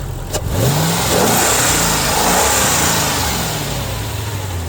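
A 23-year-old supercharged 555-horsepower Mercedes engine revs loudly and close, rising and falling in pitch with a throaty roar and a faint supercharger whine on top.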